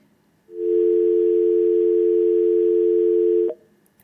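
A steady telephone line tone sounds alone for about three seconds after a caller's connection drops during a live phone-in, starting and stopping abruptly, loud and clean with no talk over it.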